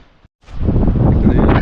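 Strong gusting wind before rain sweeps across an open farmyard where a tractor stands. A brief low rumble gives way to a loud, steady roar of wind buffeting the microphone, continuous and close.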